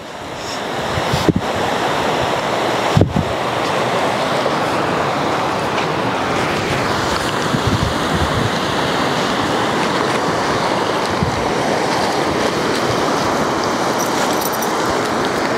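The swollen Karnali river rushes in monsoon flood, a constant loud roar of churning water with wind buffeting the microphone and a couple of sharp knocks, no voices.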